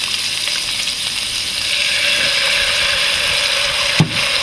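Chili and soy sauce sizzle steadily in a hot frying pan, a loud continuous broadband hiss that holds for several seconds, with one brief sharp knock near the end.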